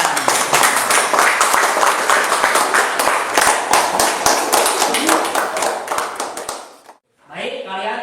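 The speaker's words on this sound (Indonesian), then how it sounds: "Ya, baik, tepuk tangan." Classroom students clap together in a dense, steady burst for about seven seconds, then it stops abruptly and a teacher's voice follows.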